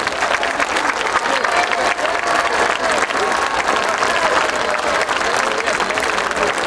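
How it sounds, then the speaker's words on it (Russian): A large outdoor concert audience in Zaryadye applauds young musicians of a combined children's brass band. Dense, steady clapping continues loud and unbroken throughout, with a faint crowd murmur. "аплодисменты"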